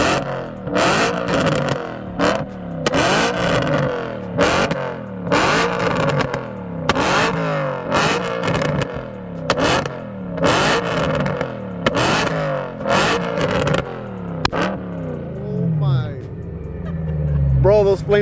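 A BMW E92 M3 with a newly fitted loud aftermarket exhaust revs hard and close, in a long run of sharp, rhythmic throttle blips with pops between them, then settles toward a lower idle near the end.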